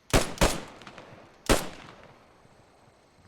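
Gunfire in the World War II shooter Post Scriptum: two sharp shots in quick succession, then a third after a short pause, each loud and close with a brief echoing tail, no voices.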